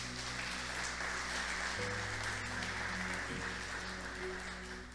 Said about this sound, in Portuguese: Pode aplaudir também a Jesus então.